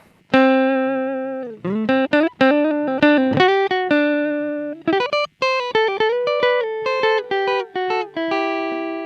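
A Kazuki SA-40 silent guitar played through effects picks out a run of single sustained notes with distortion. Some notes are bent or slide, with short gaps between phrases.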